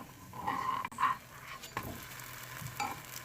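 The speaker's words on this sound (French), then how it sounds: "Et là, je vais venir retourner ma crêpe." A Berber mkhanfar crepe in an oiled non-stick pan sizzles steadily up close, with a few brief soft scrapes and a clatter as it is flipped over.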